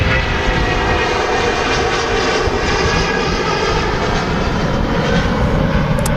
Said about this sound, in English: Turkish 330 rolling. Looks like a speedy takeoff from the Turkish.